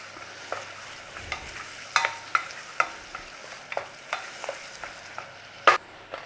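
Onions cooking in butter in a pan, a low sizzle under a string of crisp, regular spatula clacks and scrapes, close and moderately loud, with no speech.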